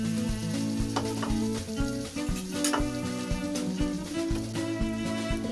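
Onion sautéing in a little oil in a home kitchen for a healthy sardine dish, with steady close sizzling and frying crackle plus repeated stirring scrapes.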